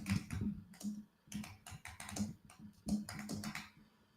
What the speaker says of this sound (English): Ah, I'm typing so fast.